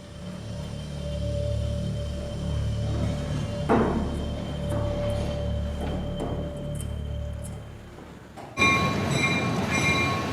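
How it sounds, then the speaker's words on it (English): A migrant freight train in Mexico rumbles low and steady as it gets underway, with metallic creaks and a brief clank, then a high tonal squeal or horn-like sound rises near the end. "The beast, as the migrants call the train, gets underway."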